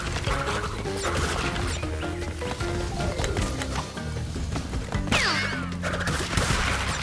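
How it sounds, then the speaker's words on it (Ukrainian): Loud, chaotic Crash Bandicoot 4: It's About Time game action as explosives blow up, a burst of blasts and crashing debris layered over busy music and effects, with a sharp explosion near the end. "Блін, взривчатка."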